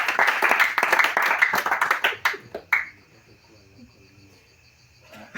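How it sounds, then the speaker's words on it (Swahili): Audience clapping at a mission trip gathering, a burst of dense handclaps for about two and a half seconds that stops abruptly, leaving a quiet room with faint chirping and murmur before a soft rise at the end. "Asimupigie makofi."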